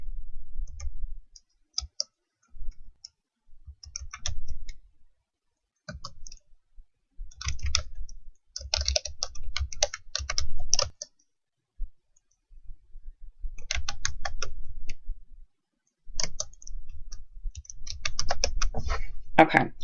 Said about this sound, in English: I'm going to type out my text.